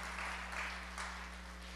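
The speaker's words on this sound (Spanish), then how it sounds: "Dele aplauso al Señor por esto." A church congregation applauds during a sermon, a soft, diffuse patter of clapping heard at some distance over a steady low hum.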